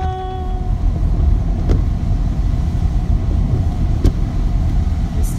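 A car rolls steadily downhill into Cataloochee Valley after coming back onto a paved road, with a continuous loud low road and engine rumble heard from inside the vehicle and no talk.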